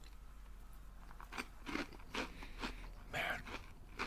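Lee's Famous Recipe fried chicken eaten up close, with repeated crisp bites and crunchy chewing in an irregular rhythm over a faint low hum, quiet and intimate.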